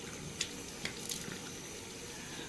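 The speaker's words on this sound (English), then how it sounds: "I do one splash with my regular water" Water is splashed onto the face to rinse off a facial scrub at a sink, giving a soft, steady wash of water noise broken by a few brief splashes.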